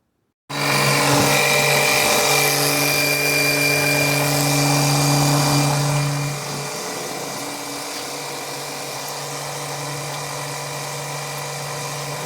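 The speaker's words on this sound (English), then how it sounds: "It takes time to pump it all out, just like it does to drain it." An oil extractor pump draws engine oil out of a Mazda 3 in a top-down oil change, giving a loud, steady mechanical drone that drops to a quieter, continuous hum after about six seconds.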